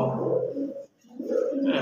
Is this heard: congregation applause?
no